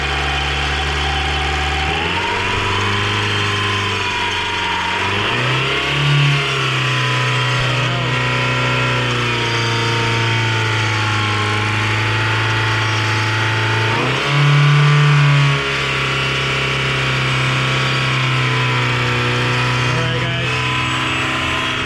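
A 1991 Honda Accord engine, with a throttle plate that sticks, revs up from idle in two strong climbs, each held briefly before easing back down, loud and close under a steady running drone.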